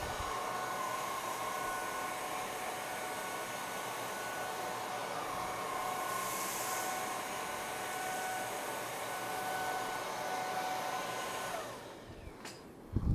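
A Whall cordless vacuum runs on medium power over carpet, a steady high whirring drone that goes on alone for about twelve seconds before cutting off with a few soft clunks.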